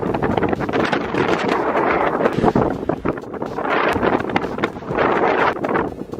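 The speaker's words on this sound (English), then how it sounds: "It ain't half windy." Strong wind buffets a microphone in loud, continuous rumbling gusts that swell and ease, with no other clear sounds.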